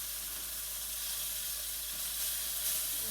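Chicken cutlets fry in a hot pan with a steady, close sizzle and soft hiss that holds even throughout, with no voices.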